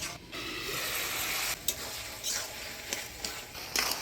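Bottle gourd with a fish head being stirred in a pan, with a soft, steady sizzle and a few scraping clatters of a spoon against the metal, close up and without talking.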